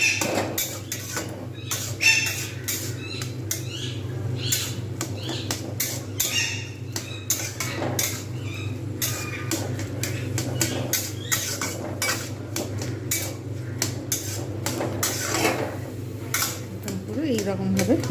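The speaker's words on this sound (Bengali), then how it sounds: "আমি এবারে খুন্তির সাহায্যে ঘেঁটে নেব" A metal spatula mashes boiled cabbage and mung dal in a pot, making rapid, repeated clinks and scrapes against the metal in an uneven rhythm, with a steady low hum beneath.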